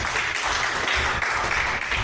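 Audience at a small comedy club applauding, a dense, steady burst of many hands clapping close by throughout, with faint voices mixed in.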